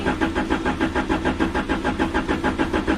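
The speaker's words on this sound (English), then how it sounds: "These are all things that are going to help start this car." A car engine cranks over and over without catching, a fast steady chugging rhythm from the starter, loud and close with no voices.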